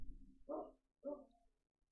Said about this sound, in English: Oh, the dog is barking, so that's bullish.